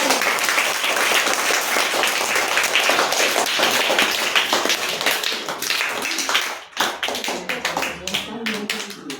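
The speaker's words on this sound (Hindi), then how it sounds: "जोरदार तालियां बजाइए।" An audience at a children's Hamd and Naat recitation competition breaks into loud, dense applause that carries steadily for several seconds, then thins into scattered, separate claps near the end.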